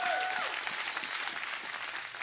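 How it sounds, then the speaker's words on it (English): A church congregation claps together in steady, dense applause that fills the room from start to finish, with a brief musical tone fading in the first half-second. "Come on, clap."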